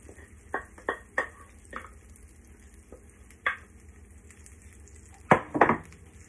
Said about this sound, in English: You hear that sizzle, you guys?